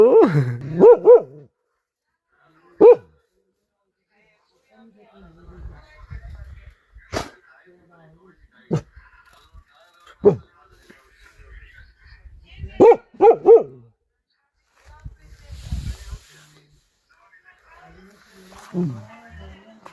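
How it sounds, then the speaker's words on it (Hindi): A dog in a Pahadi mountain village barks repeatedly in loud, sharp bursts, some in quick doublets and others spaced several seconds apart, close by, with someone speaking between the barks. "अभी तक बहुत भौंक रहा है"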